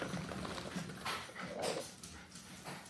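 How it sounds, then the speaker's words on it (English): Excited dogs back from a walk whimper and whine at home, a steady run of high, breathy cries at moderate volume with no talking over them. "Oh, dogs are back. My husband was walking the dogs, so it might get noisy."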